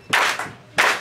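Two sharp bursts of clapping from a jazz festival audience clapping along with a swing tune, loud and close, about two-thirds of a second apart with a brief lull between.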